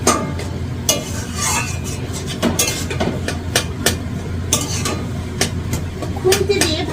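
A spatula stirs prawns and spices with bottle gourd in a pan, producing scattered scraping clinks over a continuous frying hiss, close and moderately loud.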